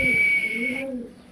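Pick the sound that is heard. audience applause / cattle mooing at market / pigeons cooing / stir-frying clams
pigeons cooing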